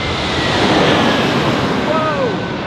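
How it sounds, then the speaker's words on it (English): Aircraft flying over near an airport beside an outdoor shopping plaza in Las Vegas: a steady, broad roar with a faint high whine that rises and falls, filling the whole stretch. "Sorry if you hear the airplanes. We're by the airport too."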